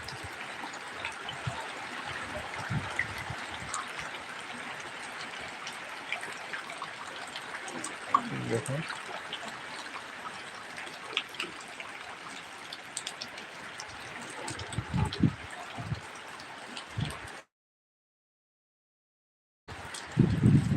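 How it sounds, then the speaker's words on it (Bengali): Steady heavy rain pours down with a continuous hiss and scattered trickling and splashing, briefly cutting out near the end before resuming, during a cyclone-driven downpour near the Bay of Bengal. "সেই বৃষ্টি এখন শুরু হচ্ছে আবার"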